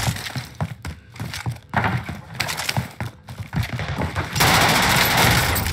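Gunfire in the game Warzone: bursts of rapid shots and sharp shotgun blasts crack out in uneven volleys, ending in a loud, sustained roar of firing.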